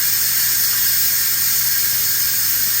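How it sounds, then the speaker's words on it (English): Instant Pot pressure cooker venting steam as its pressure is released, a steady, loud, continuous hiss with a faint low hum beneath, unbroken for the whole stretch with no voices. "I'm going to release the steam."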